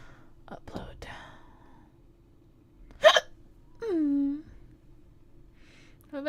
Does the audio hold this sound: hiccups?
yes